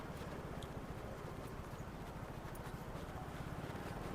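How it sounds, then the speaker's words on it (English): A horse-drawn cart moves along a street in Jogja, its hooves giving a steady, fairly faint clip-clop under a wash of constant street and traffic noise. "See the horse-drawn carts here,"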